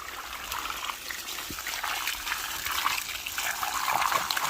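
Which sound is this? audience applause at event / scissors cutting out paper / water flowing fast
water flowing fast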